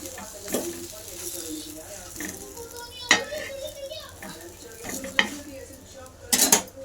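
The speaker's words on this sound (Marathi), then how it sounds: "आळूच्या वड्या पण तळून घेतल्या" Colocasia leaf rolls (alu vadi) pan-frying on a flat griddle, with soft sizzling, stirring and occasional sharp clinks of utensils against the pan, up close with faint voices in the background.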